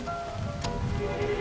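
Steady rain drops falling outdoors in a Hindi village film scene, a continuous close patter under faint tonal background music, lasting about a second and a half.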